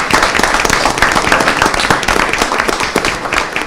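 An audience at a city council meeting claps for Arbor Day supporters, a dense and loud round of applause that carries on steadily throughout.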